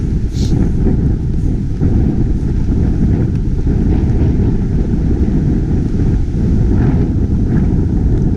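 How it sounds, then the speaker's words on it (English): Strong wind roars and buffets continuously, a loud dense rush with gusting low rumble and no voices. "don't know if you can hear the wind or not. It is howling up here."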